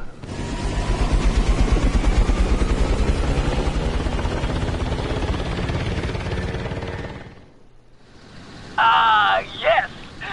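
Loud, close helicopter rotor roar in GTA V pulses steadily for several seconds, then cuts out. A brief sharper sound follows near the end.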